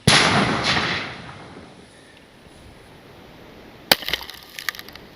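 A 37mm launcher fires during a torture test: one sharp loud report at the start with a trailing rush that fades, then after a quiet gap a second crack followed by a few smaller clatters.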